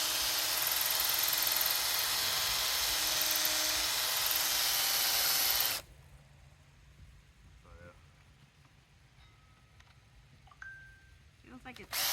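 A power drill bores through the metal wall of a grain bin, a loud continuous whining grind for about six seconds that then stops abruptly, leaving quiet with faint handling noises.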